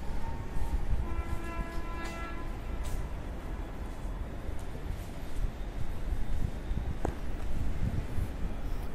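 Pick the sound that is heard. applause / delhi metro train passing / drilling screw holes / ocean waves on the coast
delhi metro train passing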